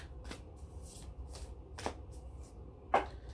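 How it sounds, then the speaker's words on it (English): Oracle cards are shuffled by hand in a few quick, close riffling bursts, with a louder flick near the end. "So moving on to the Cosmic Dancer Oracle."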